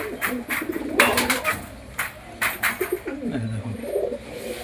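A pair of pigeons coo in low, murmuring phrases nearby amid clattering, rustling handling noises and background activity, with no clear talk.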